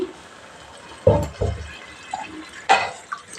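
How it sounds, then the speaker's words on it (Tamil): Water is poured into a pan of pumpkin cooking in oil with green chillies, in a few short splashy bursts, with quiet gaps and light clinks between them. "மறுக்க தண்ணி ஊற்றி"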